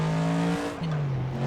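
A Ford-swapped car in a racing video game bounces off its rev limiter, the steady high engine tone stuttering and dropping in a brief cut before climbing back, loud and close with no talk.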